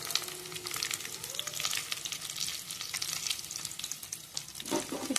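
Bitter gourd pieces and peanuts fry in a pan, a continuous close sizzle and crackle with occasional stirring scrapes. A louder burst comes near the end.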